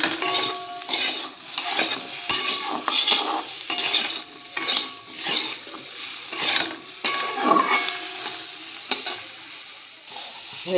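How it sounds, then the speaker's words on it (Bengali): Green chillies stirred into a pan of oil and spices with a steady sizzle, while a utensil scrapes and clinks against the pan in repeated rhythmic strokes, close and clear with no talking. "দুটো কাঁচা লঙ্কা দিয়ে দিচ্ছি"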